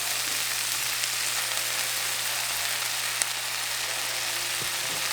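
Chorizo sizzles and fries steadily in a pan with softened celery and carrots, a loud, dense, continuous crackle with no talking.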